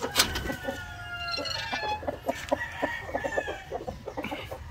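Large chickens cluck in a steady scattered series of short, close calls, with a rooster-like crow near the start and a busy farmyard background.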